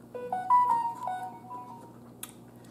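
A phone plays a short electronic ringtone or notification melody of several stepped tones, moderately loud over a faint steady background hum, then a small click.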